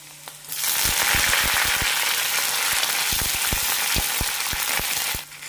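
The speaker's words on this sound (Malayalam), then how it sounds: "ഒരു ടീസ്പൂൺ കടുകാണ് ഇടുന്നത് ഇതിലേക്ക് ചെറുതായി അരിഞ്ഞു വെച്ച് വെളുത്തുള്ളി ഇഞ്ചി ഇട്ട് കൊടുക്കാം" Mustard seeds, chopped garlic and ginger frying in hot oil for a tapioca masala: a steady, close sizzle with repeated sharp pops and crackles throughout, starting and stopping abruptly.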